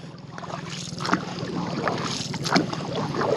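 A small boat moves across water, with steady sloshing and splashing against the hull and wind buffeting the microphone.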